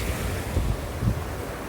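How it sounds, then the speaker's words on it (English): A small waterfall cascade in a Scottish valley near Kylesku Bridge in winter gives a steady, rushing wash of falling water, mixed with gusty wind noise and no talk. "It's a nice little cascade, isn't it?"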